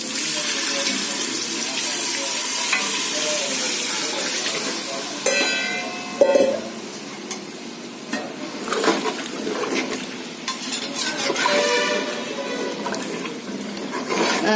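Water pours steadily into a pot of rice for several seconds, a continuous close splashing, followed by some clinking and a voice talking.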